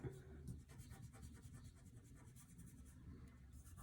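Pencil lines are smudged and rubbed across paper in an art drawing, giving soft, continuous scratchy rubbing close by with no talking.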